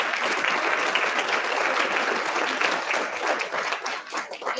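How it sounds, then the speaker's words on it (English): A community meeting audience at the Breen Community Building applauds in a dense, steady wash of clapping that holds for several seconds and begins to thin slightly near the end. "So I want to give these folks a round of applause, as well as you, for coming tonight"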